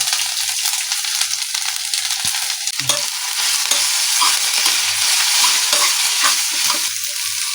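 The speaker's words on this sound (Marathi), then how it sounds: "त्याला असं सारखं सारखं परतत राहायला लागणार आहे हे मऊ होईपर्यंत मी परतेन" Okra fries in a pan while it is stirred repeatedly, a loud, dense sizzle running throughout with recurring scraping strokes of a spoon or spatula against the pan, close by and with no talking.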